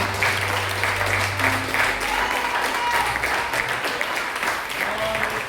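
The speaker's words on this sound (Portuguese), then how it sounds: "Quem pode aplaudir esse Deus aí?" A church congregation applauding during a worship service, a continuous dense roar of clapping at steady loudness, with faint voices and a low hum underneath.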